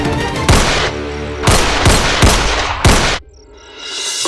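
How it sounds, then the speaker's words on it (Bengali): Gunfire at a locked-up house in a drama scene: a burst of loud, sharp shots, about five or six sharp cracks in quick succession over three seconds, close and alone before falling quiet. "হ্যাঁ, গুলির আওয়াজ।"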